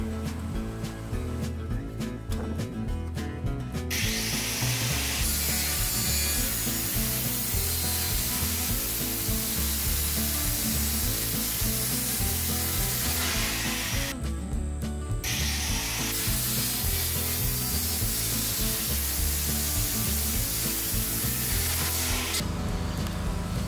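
A steady, grinding rasp runs nonstop as threaded all-thread rod is cut to length for ceiling batten supports in a shipping container house, broken only by brief high-pitched cutting whines.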